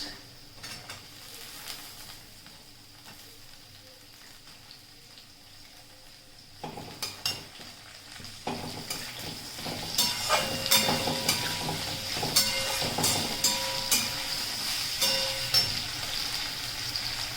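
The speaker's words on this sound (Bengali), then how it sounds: "আলু আর গাজরটা ভাজা হয়ে গেছে। এবার আমি দিয়ে দেবো আস্তে আস্তে অন্য সবজিগুলো। এবার দেবো আমি বিনস" Cubes of potato and carrot fry in a pan as green beans are added, quiet at first, then building into busy sizzling with repeated stirring scrapes and utensil clinks, and no voices.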